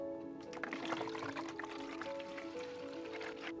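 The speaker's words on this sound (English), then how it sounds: "fill the water tank with water." Water poured into a humidifier's water tank, a faint, steady trickling and gurgling fill that runs the full length at low level, with no voices.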